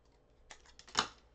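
Paper cardstock for a stamped card front being cut, with a few soft clicks followed by one sharper, louder snip near the end, close up and quiet with no talking.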